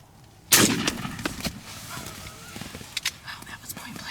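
A single loud, close shotgun-style blast fired at a wild turkey during a spring hunt in the Kansas hills, followed by rustling, footsteps and low talk outdoors.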